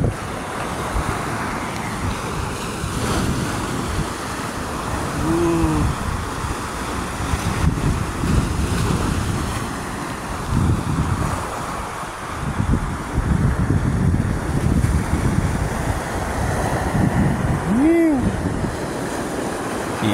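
Strong water rushes over rocks in a river with a loud, steady roar and splash that never lets up, and a couple of short whistle-like calls rise above it.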